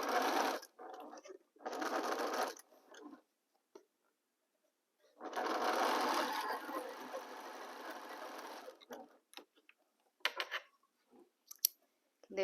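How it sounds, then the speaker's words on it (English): A sewing machine stitches pieces of pumpkin fabric in short bursts, then one longer steady run, with quiet pauses and small clicks of handling between, close and clear. "So align it very well and start sewing."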